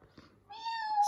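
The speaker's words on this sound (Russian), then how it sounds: "Там уже кошки подпевают." A cat meows in a long, rising tonal call near the end of the clip, close and fairly clear after a quiet start, with no talking.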